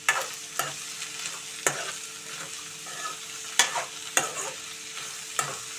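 A spatula scrapes and stirs ivy gourd (tindora) frying in a pan over medium flame, sharp repeated metallic strokes every second or so over a soft continuous sizzle, close up.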